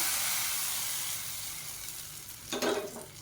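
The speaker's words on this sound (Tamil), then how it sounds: "இதில் கடுகு சீரகம் கருவேப்பிலை வரமிளகா பெருங்காயம் போட்டு தாளித்ததை இப்போ அந்த கூட்டில் சேர்த்துக்கலாம்" Mustard seeds, cumin, curry leaves, dried chillies and asafoetida tempering in hot oil give a steady hiss and sizzle that slowly fades, with a brief louder crackle and stir near the end.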